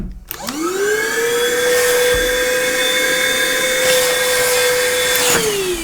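A STHOR 82971 two-in-one car and home vacuum cleaner switches on and spins up to a steady high-pitched motor whine, running loud and close, then begins to wind down at the end.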